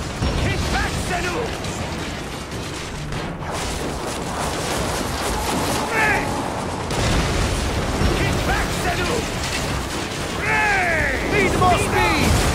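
Explosions and combat noise during a naval battle under fire in Assassin's Creed Origins: constant loud rumbling and booming with mechanical clatter, while shouted voices in the game carry over the top.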